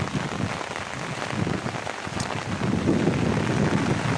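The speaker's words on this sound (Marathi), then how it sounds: "पाऊस खूप पडतोय." Heavy monsoon rain pours steadily onto farmland during the paddy planting season, a dense, continuous hiss of drops that swells slightly louder toward the end, with no voices.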